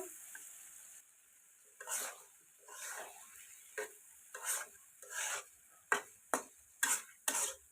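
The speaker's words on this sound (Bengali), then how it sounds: "মাংস সাথে মশলা ভালোভাবে কষিয়ে নেব" Country chicken pieces stir-fried with spices in a hot pan, a bright crackling sizzle broken by rhythmic scraping stirs that grow sharper and more frequent toward the end, close and alone.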